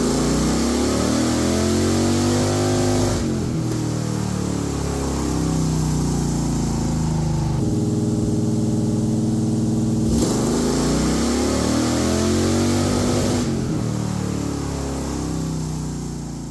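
An engine fitted with an Aces EFI Wildcard 2 fuel injection system roars loudly through repeated wide-open dyno pulls. Each run climbs steadily in pitch, then cuts off abruptly before the next surge, close and with no talking.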